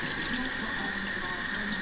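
Water pours steadily from a tap to rinse a freshly cleaned catfish, a continuous close, even hiss of running water with no pauses.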